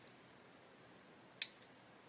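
Nippers snip plastic parts of a 1/32 Boulton Paul Defiant Mk.1 kit off the sprue, one sharp close click followed by a faint second tick in near silence.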